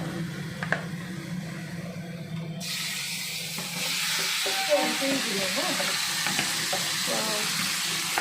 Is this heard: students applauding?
no